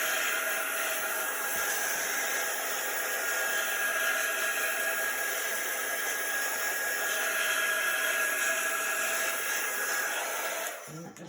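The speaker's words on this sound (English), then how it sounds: "You can use your heating tool or your quick dry tool just to make sure." A heat tool blows steadily to dry chalk paste, a continuous airy whir that holds level for the whole stretch and cuts off at the very end.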